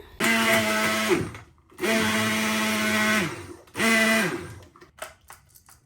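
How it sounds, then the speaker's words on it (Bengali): A kitchen blender mixing milk into a protein shake runs in three loud whirring bursts separated by short pauses, its motor pitch shifting as the thick mixture churns, followed by faint handling noise. "এখন এই মিশ্রণটাকে একসাথে ব্লেন্ডার করে মিক্স করে নিতেছি"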